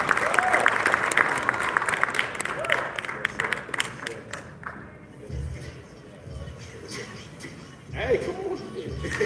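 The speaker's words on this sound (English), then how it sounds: "Let's give them a big round of applause." A crowd at a community town hall with a state representative applauds youth with loud, mixed clapping for several seconds, then it dies away into people talking, shuffling and murmuring nearby.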